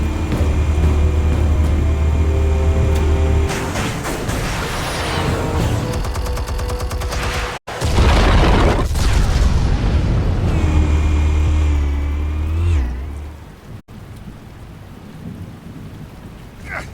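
Explosives detonate in the Telltale Batman video game, with loud, rumbling blasts that fill the clip. There are two heavy bursts, each with a sharp drop between them and a sustained low roar after it.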